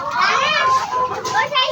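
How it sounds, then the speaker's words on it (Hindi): Lively children's voices shout and chatter together at close range, a noisy burst of kids playing that continues throughout. "ये उमर ज़्यादा शोर मचा रहे"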